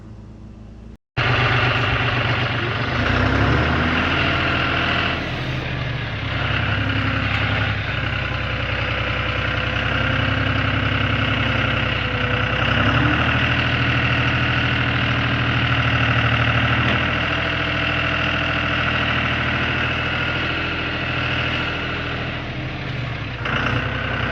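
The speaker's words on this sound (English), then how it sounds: "I took my tractor with the splitter on the pallet forks and picked all the rounds up" A steady tractor diesel engine rumbles and idles continuously at close range while lifting log rounds on pallet forks, with slight rises and dips in pitch, and no talking.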